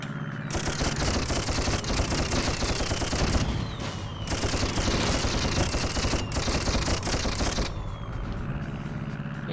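Missiles fire over and over in the Dreamcast game Toy Commander, a dense, loud barrage of rapid launches and blasts running almost without break under game music.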